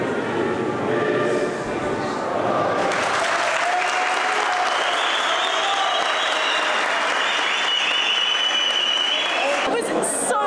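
A crowd in Istanbul breaks into loud, sustained applause and cheering that swells after a quieter moment and carries on densely for several seconds, with a voice speaking over the noise.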